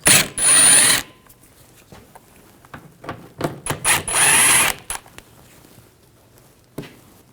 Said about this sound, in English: Take these top two screws out on the trim. Same T15 socket.